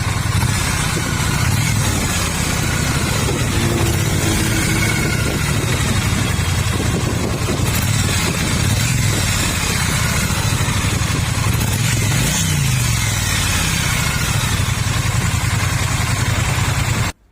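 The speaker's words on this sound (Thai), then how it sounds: "ฟังเสียงเครื่องยนต์นะครับ" A 2019 Triumph T100 Black motorcycle idles at a roadside shop, a continuous low throbbing engine note held steadily for a long stretch, with faint passing traffic behind it.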